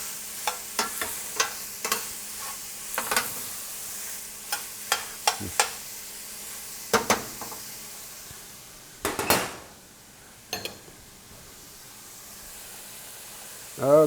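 Celery cooks down in a pan for shrimp and grits, with a soft hiss of frying under a run of light taps and scrapes from a utensil, and a few louder clatters partway through.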